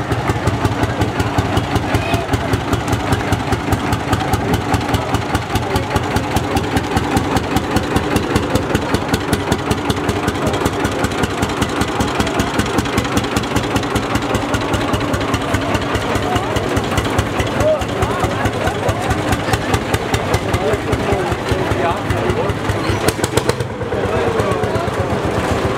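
An old 45-horsepower Lanz Bulldog tractor idles while pulling a threshing machine in a harvest parade of vintage machines, its single-cylinder engine thumping in a loud, steady, rapid beat throughout, with someone talking over it.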